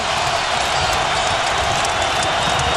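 A basketball arena crowd at a Marquette versus UConn game roars in a dense, continuous wall of cheering and applause, loud and sustained throughout.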